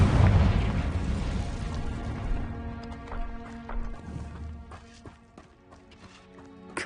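Booming spell explosions from the Bombarda and Confringo curses in Hogwarts Legacy, a loud rumbling blast that fills the start and slowly decays into crackling debris and scattered pops.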